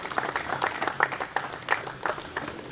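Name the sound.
audience applause at opening ceremony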